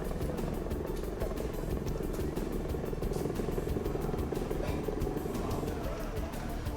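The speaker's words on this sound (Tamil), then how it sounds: "வயநாட்டில் நிலச்சரிவால் பாதிக்கப்பட்ட பகுதிகளில் விமானப்படையின் ஹெலிகாப்டர்கள் மீட்புப் பணியில் ஈடுபட்டு" Air force rescue helicopter working over a landslide-hit area in Wayanad, its rotor chopping in a loud, steady, continuous drone close by with no break.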